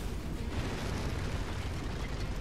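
An explosion in MechWarrior 5 Mercenaries booms with a broad, rumbling roar that holds steady and loud for a couple of seconds, with no talking.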